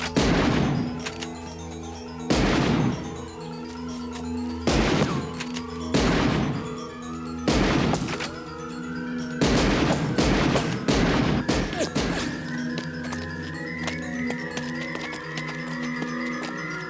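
Gunfire in a French science-fiction action film: a rapid fusillade of loud, sharp shots in bursts, some overlapping with heavy booming impacts, over a sustained tonal score, with brief shouted voices.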